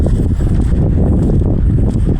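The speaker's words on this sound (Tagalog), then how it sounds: "May hangin." Strong wind gusting at a seaside dike by a river mouth in Manila, a loud continuous buffeting roar across the microphone with no clear talk.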